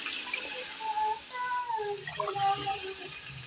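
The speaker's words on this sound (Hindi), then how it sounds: "मैं पानी लगा रही हूँ इसमें" Water poured into rice in a cooking pot while making chana pulao, a steady splashing pour close by with a faint voice underneath.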